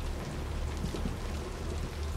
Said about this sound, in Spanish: Mirad cómo llueve, chaval.